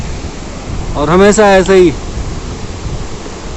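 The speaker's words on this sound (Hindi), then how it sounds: "पैदल मार्ग में ये बहुत ही खूबसूरत झरना है" A year-round waterfall on the Kedarnath walking trail gives a steady, loud rushing roar through the whole span, and someone speaks briefly over it.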